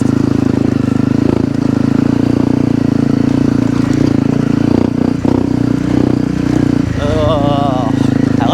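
A five-year-old Honda CRF250L with an FMF exhaust pipe runs nearby with a loud, steady, buzzing single-cylinder drone that shifts slightly in pitch as it revs. A voice talks over it throughout.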